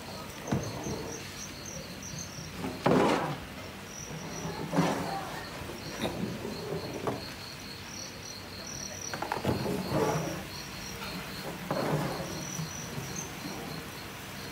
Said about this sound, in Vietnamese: Đây mới gọi là giống dế Thái.